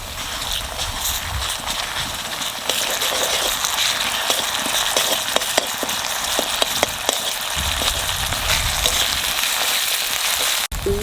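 Ginger-garlic paste frying in a pan over browned onions while a spiced chicken curry is cooked, giving a steady loud sizzle and hiss throughout with scattered small crackles and pops, no voices.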